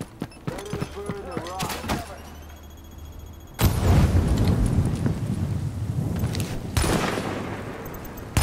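A grenade blast in the shooter game Tom Clancy's The Division, a sudden loud boom from mid-clip that rolls into a sustained roar and crackle, with gunfire and shouted voices around it.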